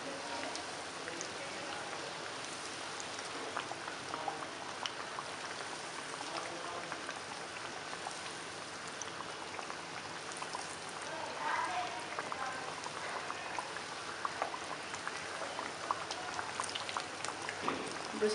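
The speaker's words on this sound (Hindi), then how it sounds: "मीडियम लो फ्लेम पर इन्हें फ्राई कर लेना है।" Beef pasanday slices fry in oil over a medium-low flame, giving a steady, even crackle and bubbling sizzle that holds at a moderate level throughout without pause.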